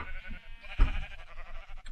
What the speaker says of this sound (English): Look at all these sheep.